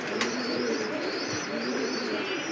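Belgian maxi racer pigeons, big-size birds nesting in a loft, cooing softly and steadily against a busy background of other bird calls.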